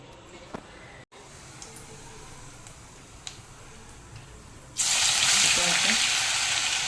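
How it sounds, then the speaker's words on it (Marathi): Onion and garlic paste is tipped into hot oil for a pav bhaji tempering. A quiet stretch with a few small clicks gives way to a sudden loud, continuous sizzle near the end. "कांदा लसूण पेस्ट टाकली, चांगली परतून घ्यायची खरपूस"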